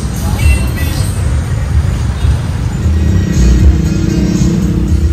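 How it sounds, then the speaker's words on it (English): Dense rush-hour traffic on a Metro Manila avenue: a constant, loud rumble of cars, buses and engines idling and creeping along, up close and without a break. "we're really backed up on traffic right now due to the rush hour"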